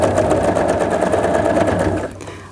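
Home sewing machine stitching fabric for a large kids' floor pillow, a steady close whirring hum that runs continuously before cutting off near the end.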